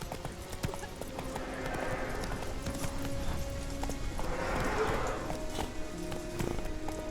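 Roach, a horse in The Witcher, gallops in a quick, steady clip-clop of hooves close by, with a brief whinny and a voice speaking over the rhythm.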